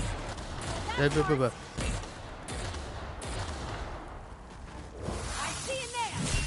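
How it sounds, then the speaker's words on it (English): Gunfire rattles in The Outer Worlds video game in sharp bursts and single cracks, with a player talking over parts of the shooting. "Returning fire."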